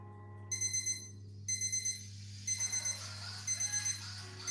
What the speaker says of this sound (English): you see it's beeping now